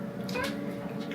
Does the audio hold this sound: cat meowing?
yes